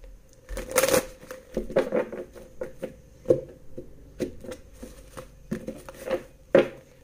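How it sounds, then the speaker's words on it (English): Tarot cards being shuffled by hand up close, soft papery riffles and taps arriving in uneven bursts, fairly quiet with no voice over them. "One more shuffle."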